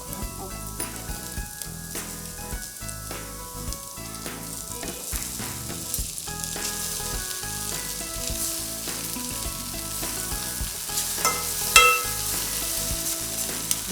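Vermicelli (semiya) frying in a pan for mango semiya pulihora, a steady close sizzle with scattered stirring scrapes and clinks throughout, no talking.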